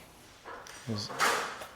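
A kitchen drawer knocks against its handle where a countertop squeezed between cabinet and column blocks it, giving a few short wooden clunks and a scrape at close range with no talk.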